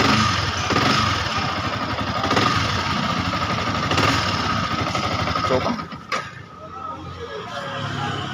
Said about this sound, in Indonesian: Nah, lucu, motornya tiba-tiba saja hidup.